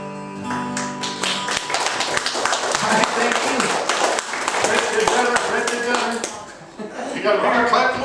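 Audience applause at a live broadcast performance, steady dense clapping filling the room after a song, with a voice and some musical tones mixed in underneath.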